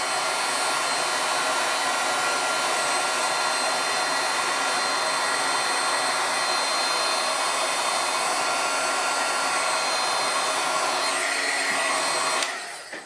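A heat embossing tool blows hot air in a loud, steady roaring whoosh onto a dry embossed paper panel, continuous and close, cutting off abruptly at the end, with no talking.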